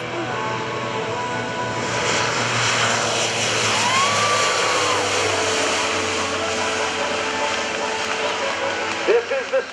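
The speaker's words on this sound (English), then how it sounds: "they are on the roll right now. Take a look as we see the C-130 Hercules." A Lockheed C-130J-30 Super Hercules military transport rolls down the runway at an air national guard airshow, its propeller turbines droning loud and steady with a rising whine, distant crowd noise and brief thumps near the end.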